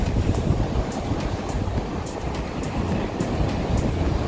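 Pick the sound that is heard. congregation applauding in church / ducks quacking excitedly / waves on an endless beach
waves on an endless beach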